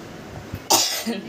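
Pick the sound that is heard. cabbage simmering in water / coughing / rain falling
coughing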